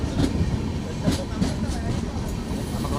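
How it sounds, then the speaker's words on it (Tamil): A train pulls into a station, a loud steady rumble of wheels on track with faint rhythmic clatter running the whole way through. "பாருங்க ஃப்ரெண்ட்ஸ், ட்ரெயின் வந்து இருக்கு"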